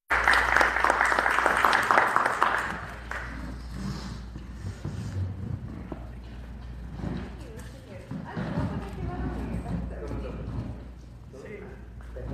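Audience applause at a Spanish-language lecture presenting the novel Idolatría, loud clapping for a few seconds that fades into a murmuring crowd with talk over it.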